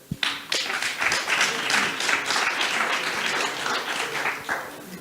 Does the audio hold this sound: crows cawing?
no